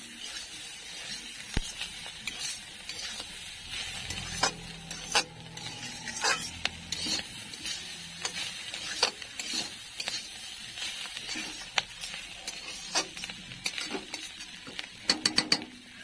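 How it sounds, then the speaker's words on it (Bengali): Bean curry stirred in a pan with cumin and coriander powder, a spoon scraping and knocking against the metal in irregular strokes over a soft sizzle, heard close and without speech. "এটার মধ্যে জিরে গুঁড়ো আর ধনে গুঁড়ো মিক্স করে এখন ভালো করে নাড়াচাড়া করে নেব"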